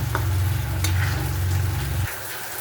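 Spices with ground cumin sizzle and scrape in a frying pan as they are stirred, a loud steady crackle over a low hum that cuts off near the end.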